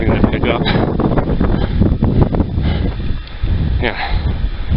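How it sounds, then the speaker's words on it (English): Strong wind buffets the microphone on the Mount Jefferson summit in the White Mountains, a steady loud roar and rumble that rises and gusts, with a person talking over it. "Now the wind's starting to pick up."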